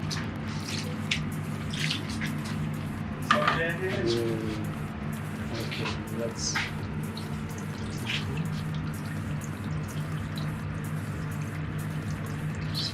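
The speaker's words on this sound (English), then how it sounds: "He's pouring some water." Water poured over raw dough for Olot-style samsa, a steady wet wash over a low constant hum, with someone speaking briefly in the middle.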